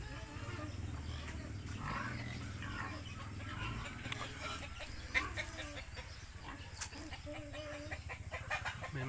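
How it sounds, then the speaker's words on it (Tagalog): Native chickens in a rural Philippine province cluck softly in a few short bursts over steady outdoor ambience, with faint voices in the background. "May mga manok din sila."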